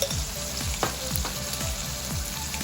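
Laing with bagoong alamang sizzling in a pan while being stirred, a dense close-up frying hiss with regular scraping strokes of the spoon roughly every half second, no voices.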